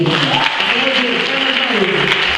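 Church congregation applauding loudly in worship, a thick continuous roar of clapping with a voice speaking or singing faintly underneath.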